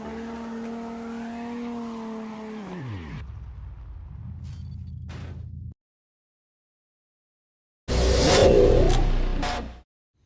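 A drift car with a 3-litre engine swap in the CarX Drift Racing 2 video game: a steady droning engine note that winds down and drops away, a brief gap of silence, then a loud burst of revving before cutting off.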